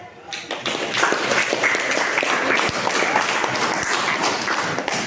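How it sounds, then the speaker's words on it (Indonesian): Students in a classroom clap together for group 3, a lively burst of many sharp hand claps that starts suddenly and carries on at a steady level for about five seconds, with voices mixed in. "kita berikan dulu tepuk tangan untuk kelompok 3."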